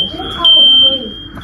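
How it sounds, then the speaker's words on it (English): A smoke alarm shrills with a steady high-pitched tone, loud and close indoors, while people talk over it. "Bruh, Kelly, we set the smoke alarm off."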